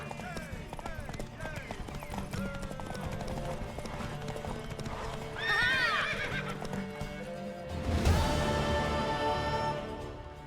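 Horses galloping in a race in The Witcher 3 video game, steady clip-clop hoofbeats with a whinny, under game music and effects that swell toward the end.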